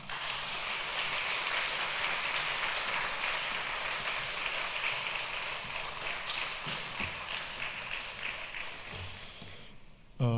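Church congregation applauding steadily at a Wednesday prayer meeting to welcome a returning missionary, a dense, continuous wash of clapping that holds for about ten seconds before breaking off abruptly.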